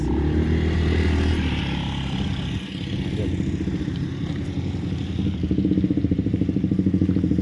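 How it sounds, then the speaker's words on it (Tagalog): A motorcycle engine idles close by outdoors in a steady rumble, with a faster, rhythmic chugging pulse building toward the end; no one speaks. "so ito yung motor natin no"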